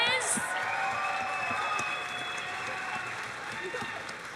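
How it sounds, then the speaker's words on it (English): Audience applause at a cosplay contest for the novice category winners, a steady wash of clapping with faint cheers and crowd chatter mixed in throughout. "big round of applause"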